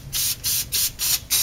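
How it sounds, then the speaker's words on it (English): Five short, evenly spaced bursts of a light spray mist onto chipboard for a mini album craft project, close and crisp hissing puffs with brief silences between them. "I'm going to grab some of this chipboard, and I'm just going to spray, lightly spray,"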